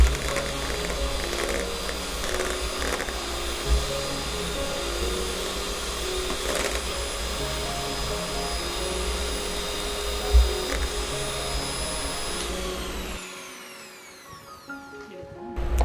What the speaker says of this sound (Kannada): ಇದನ್ನು ಬೀಟ್ರ್ ಸಾಯಿಲಿಂದ ಚೆನ್ನಾಗಿ ಮಿಕ್ಸ್ ಮಾಡ್ಕೊಳ್ಳಿ